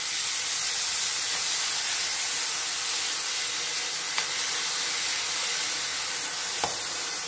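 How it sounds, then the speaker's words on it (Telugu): Cumin seeds, chopped onions and green chillies fry in hot oil in a pan, giving a steady, loud hiss and sizzle with a few brief crackles, and no talking. "కొంచెం జీలకర్ర, ముందుగానే తరిగి పెట్టుకున్న ఆనియన్స్ అండ్ పచ్చిమిరపకాయలు యాడ్ చేసి ఫ్రై చేసుకోవాలి."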